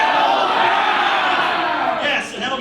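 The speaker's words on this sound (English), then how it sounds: "let's get a big L-bath from the crowd before we start" A crowd at a One Piece trivia event at Tekko shouts a chant together, loud and close, in one sustained burst that fades briefly before rising again.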